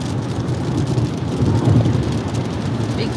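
Heavy rain drums steadily with a low rumbling roar during a drive through Iowa, constant and loud throughout with no pauses.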